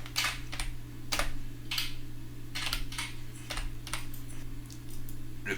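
Quick bursts of keystrokes on a computer keyboard during Unreal Engine work, crisp close taps in short clusters with brief pauses between, over a steady low electrical hum.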